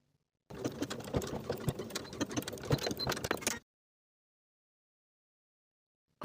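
A sewing machine stitches a coat's inner pocket bag in one steady run of rapid needle clatter for about three seconds, close and clear, then stops into silence.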